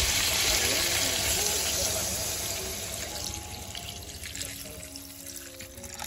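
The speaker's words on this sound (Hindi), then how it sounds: "अब इसमें मैं पानी दे देती हूँ" Water poured into a cooking pan holding a softened vegetable mixture stirred in oil, a loud rushing splash at first that gradually tapers into quieter trickling, with no one talking.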